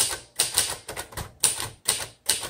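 Keys clack in quick bursts on a 1957 Royal Aristocrat manual typewriter, loud and close, with short pauses between runs of strikes and no voices.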